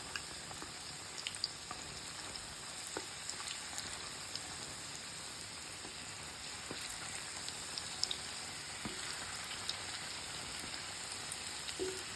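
Syrniki fry in a pan in a village kitchen, giving a faint, steady crackling sizzle with tiny pops scattered throughout, heard alone and at low level.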